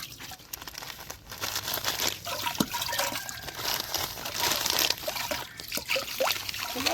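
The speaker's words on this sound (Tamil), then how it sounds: "இந்த நெத்திலி நம்ம அப்படியே எடுத்ததை நல்லா உப்பு தண்ணியில் போட்டு நல்லா அலசிக்கிறோம்" Fresh anchovies, part of a large batch being made into dried fish, are swished and rinsed by hand in salt water, giving continuous close splashing, trickling and crinkly wet rustling.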